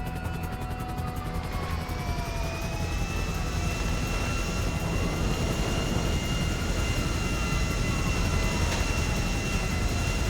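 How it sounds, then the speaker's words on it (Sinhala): A jet aircraft in the video game GTA V roars steadily, a continuous engine drone with a faint high whine holding level throughout, no voices. "මේක ප්ලේන් එක නෙමෙයි ජෙට් එකක්"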